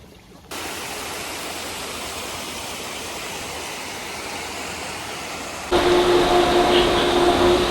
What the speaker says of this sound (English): I love the sound of a prime pump though